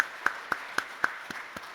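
Sparse applause from a church congregation during a Sunday service: about seven distinct claps spaced evenly, sharp and moderately close, fading toward the end.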